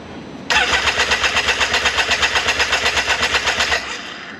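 A rebuilt Can-Am X3 Maverick Turbo engine cranks and fires, then runs loud and close with a steady rhythmic pulsing for about three seconds before dropping off.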